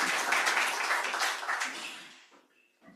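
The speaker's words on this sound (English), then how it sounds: "I feel like that first session for today deserves another round of applause." Audience applause for a conference session, a dense burst of clapping from a crowd that fades away over about two seconds into quiet.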